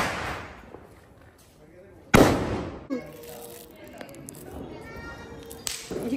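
Diwali firecrackers burst outdoors at night, one loud sharp crack followed by smaller pops and echoing crackle, with people talking and shouting around them.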